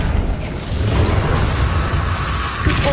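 An Incendio fire spell is cast in Hogwarts Legacy, producing a loud, steady whooshing roar of flame that holds for about three seconds and ends with a brief crackling burst.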